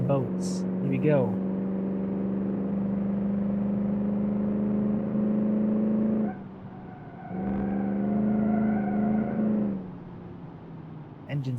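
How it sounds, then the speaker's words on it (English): A classic American car with a 3-speed automatic drones through a racing video game, a steady low engine hum that holds, cuts out briefly and returns at a higher pitch as if shifting, with a few faint clicks. "Engine sounds good"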